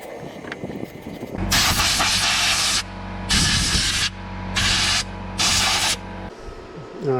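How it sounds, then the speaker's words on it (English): The inside of a wheel bearing housing is scuffed up by hand during a wheel bearing replacement. There are four loud, close bursts of rough, hissing abrasion, each lasting about a second, with brief pauses between them. "scuff up the inside here where that wheel bearing is going to land"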